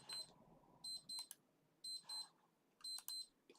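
An alarm going off in repeated bursts of high, bright electronic beeping, pairs of short pulses recurring roughly once a second, fairly clear against a quiet room hum with no talk.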